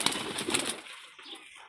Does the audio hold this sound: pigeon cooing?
yes